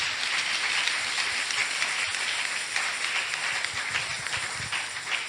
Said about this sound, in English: Clap unto the Lord for me.